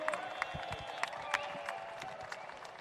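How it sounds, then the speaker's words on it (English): Crowd applauding a custom Harley-Davidson motorcycle build at a pre-show event, a moderately faint wash of scattered clapping with a few sharper claps, a bit distant and steady throughout. "Give a round of applause for their build."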